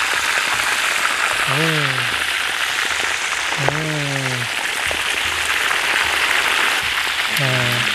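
Ruak-ruak (waterhen) meat frying in a pan, a loud, steady crackling sizzle that runs throughout, with a few short voiced sounds rising above it.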